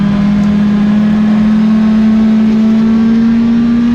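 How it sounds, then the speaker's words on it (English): A $400 junkyard motor in a dirt-track race car revs hard and steadily at close range, a loud continuous engine drone holding high and nearly constant pitch throughout, as if bouncing near the limiter. "is occasionally bouncing off the limiter, legging out second like I'm Dale Earnhardt"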